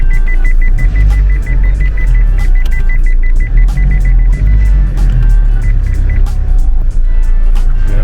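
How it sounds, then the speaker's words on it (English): Car parking sensor beeping repeatedly in a regular rhythm inside a started car, sounding over a loud, steady low engine rumble throughout. "So parking sensors going off"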